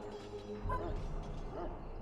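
A dog in the video game Dragon Age: Origins whimpers and barks, a short series of close, strained yips and whines over steady background game audio.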